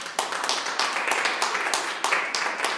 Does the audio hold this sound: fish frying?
no